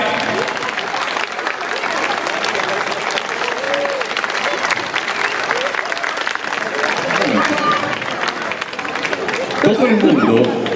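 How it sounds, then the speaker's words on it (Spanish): Audience applause for dancers at a multicultural gala in Blanes, with steady clapping mixed with crowd chatter throughout, swelling louder near the end. "Todo el mundo le aplaude a los bailarines"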